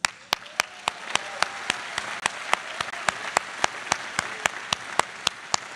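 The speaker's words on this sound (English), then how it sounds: "for that, you deserve a round of applause." Graduation audience applause rolls on as a soft, distant wash of clapping, punctuated by a loud, evenly spaced clap close by that repeats about every third of a second.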